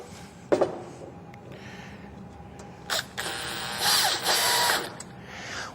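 Wood screws from a hardware kit are driven into wood: a few short whirring, ratcheting bursts from a driver, fairly quiet, separated by brief pauses.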